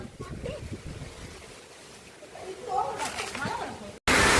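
Strong wind gusting through a night rainstorm in Mullaitivu, Sri Lanka, roaring and buffeting the microphone in uneven surges that build louder toward the end, with a voice speaking over it.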